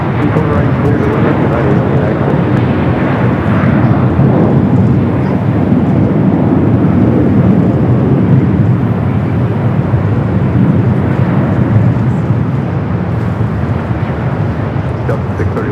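An Airbus A350-900 arriving from Tokyo Haneda comes in to land at LAX with a loud, continuous roar and rushing wind buffeting the microphone. A voice speaks over the noise.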